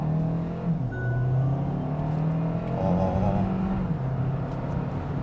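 Hyundai Tucson Hybrid pulling away hard from a standstill, its engine and electric motor humming and rising in pitch as it gains speed, heard steadily from inside the cabin with road noise underneath.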